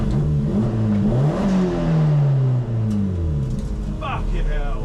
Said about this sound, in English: I'm going to blow my engine up.